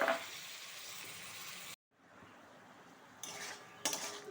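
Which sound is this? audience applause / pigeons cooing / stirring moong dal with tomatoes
stirring moong dal with tomatoes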